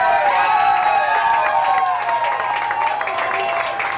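A rally crowd applauds and cheers in a dense, continuous wash of clapping and voices that stays loud throughout, with talk mixed in.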